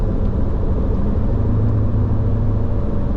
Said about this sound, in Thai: เติมคันเร่งไปเลยครับ แบบนี้เติมคันเร่งไปเลย